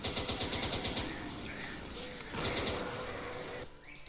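Chaingunner machine gun fire in Doom with the Vendetta mod: dense, rapid, continuous gunfire with a rattling rhythm amid chaotic game noise throughout, with a voice talking over it.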